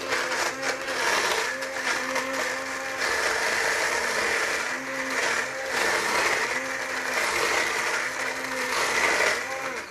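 An immersion blender with a spinning blade whirs steadily as it purées rosehips, a loud continuous motor drone with rhythmic pulsing surges throughout, no voices over it.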